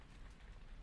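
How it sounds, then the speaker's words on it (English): Soft, steady rainfall at night, a faint low hiss with no distinct drops and no voices. "Let's watch the rain together for a bit."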